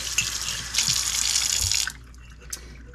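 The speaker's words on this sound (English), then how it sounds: "now's the time you'll want to rinse out the inside in case it has any dust or anything in it." Tap water runs into a glass beer mug to rinse it out, giving a close, hissing splash for almost two seconds. The water then stops, leaving a few faint drips and clinks.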